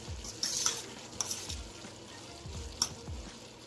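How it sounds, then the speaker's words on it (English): Food cooking in a pan over medium heat, Moroccan style, with a low bubbling sizzle under a few distinct clinks and scrapes of a utensil against the pan, nearby and fairly quiet, without speech. "And this is kind of simmering."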